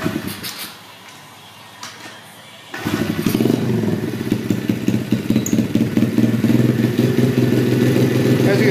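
BBR 106cc pit bike engine cranking over, then catching and settling into a loud, rough, steady idle up close, with clattery mechanical noise.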